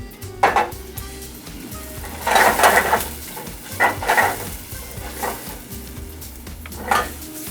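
Tomatoes sauté in a pan with a little pepper, giving a soft steady sizzle under repeated stirring and utensil scrapes and clinks against the pan, close and moderately loud.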